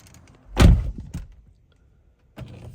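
A solid BMW E92 car door thunks shut once, followed by a faint settling knock, then a softer thump near the end; no talking.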